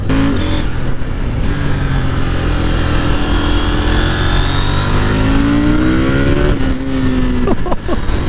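A KTM 890 Duke R motorcycle accelerates hard through bends, its engine note climbing in steady rising sweeps, easing briefly and then pulling up again, loud and close with no talk over it.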